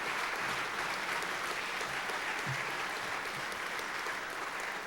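Steady, dense applause from a banquet audience honoring state-winning sports writers at an awards dinner, continuous clapping at moderate loudness with no break.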